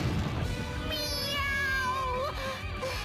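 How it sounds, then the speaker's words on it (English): A single drawn-out meow from a cat in the game Bravely Second: End Layer sounds over background music, cartoonish and upfront. "Meow!"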